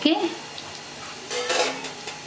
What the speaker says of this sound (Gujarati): હવે આપણે 2 મિનિટ સુધી તળીશું